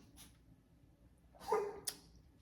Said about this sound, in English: Don't mind my dog, she's coughing.